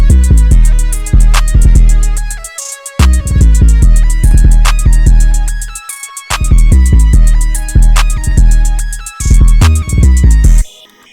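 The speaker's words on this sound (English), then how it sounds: "And then this is when the second half of the hat pattern comes in." A loud trap beat made in FL Studio, with booming 808 bass hits and a rapid hi-hat pattern ticking over claps, repeating in tight rhythmic bars with brief drop-outs between phrases.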